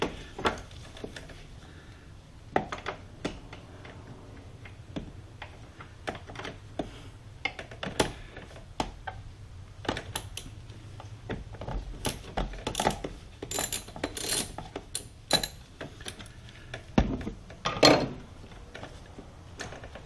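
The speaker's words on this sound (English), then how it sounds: "I put a wobbler on the end of my socket and extension." A socket wrench with a wobble extension turns a bolt near the fuse block on a Mini Cooper S, giving sparse metallic ratchet clicks and taps scattered over a quiet background.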